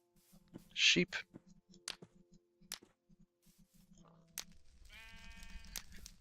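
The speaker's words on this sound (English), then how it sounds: "Sheep." Sheep in the Minecraft video game bleat in short, wavering cries toward the end, over soft game footsteps and clicks with no one talking.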